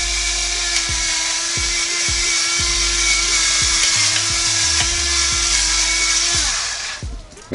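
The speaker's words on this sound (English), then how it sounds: "Basically, it's electronic, battery powered. I just turn it over and it's going to have a blue light and just start dumping out cracked pepper." Battery-powered electronic pepper grinder whirring steadily as it cracks pepper over a smoked leg of lamb, a loud continuous motor drone with small rhythmic knocks, cutting off after about six seconds.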